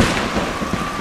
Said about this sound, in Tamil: மழை பேர பெஞ்சிச்சா